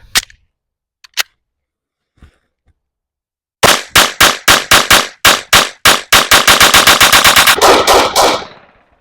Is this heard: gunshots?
yes